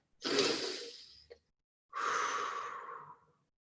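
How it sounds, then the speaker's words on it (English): Two deep, slow breaths close to the microphone, each a long soft airy exhale lasting over a second, separated by a short pause in an otherwise quiet room. "maybe we take a couple of deep, slow breaths."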